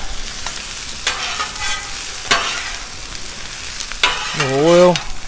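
Cajun shrimp and smoked sausage stir fry sizzles loudly on a Blackstone griddle, a steady close frying hiss. Sharp scraping stir strokes come through, and one whining squeak rises near the end.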